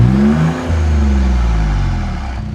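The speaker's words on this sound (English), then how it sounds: "Just listen to how the turbos sound after they spool." A Ford Raptor's twin-turbo V6 revs hard with a deep, rising growl and a brief dip before climbing again, sustained and close.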